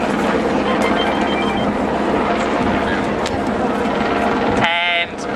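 A mobile phone ring sounds briefly near the end: a rapid, trilling tone that cuts across loud background chatter and crowd noise at an outdoor barbecue gathering in Cronulla.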